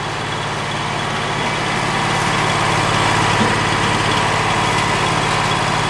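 A Wood-Mizer portable sawmill keeps running after its blade snaps, a steady loud mechanical drone with a low hum and a constant whirring from the still-spinning wheels, holding even throughout with no speech.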